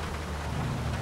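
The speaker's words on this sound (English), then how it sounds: "I started making it rain because I wanted it to be like more realistic" Steady rain falling in the GTA IV video game, a dense continuous hiss and patter that stays even and moderately loud through the short moment, with a low rumble underneath.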